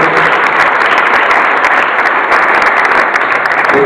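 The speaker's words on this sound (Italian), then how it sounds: "Penso che vada fatto anche un applauso alla squadra." Steady, dense applause from an audience honouring a gymnastics team at a club presentation, loud and sustained throughout with no voices over it.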